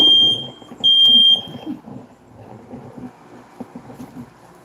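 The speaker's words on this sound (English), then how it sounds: "I'm literally sitting here holding the fan on the fire alarm" A home smoke detector sounds two loud, piercing electronic beeps near the start, set off by smoke indoors, followed by quieter background rustling and handling noise.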